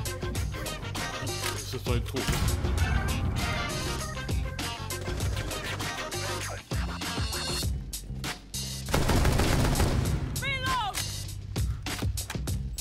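Rapid gunfire bursts and single shots crack through a Rainbow Six Siege match, dense and loud, with players talking over the shooting throughout.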